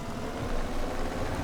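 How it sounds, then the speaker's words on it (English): Tractor engine in Farming Simulator 2017, a steady mid-to-low idle rumble holding at constant level with no voices, close and continuous. "and we'll put this tractor in here"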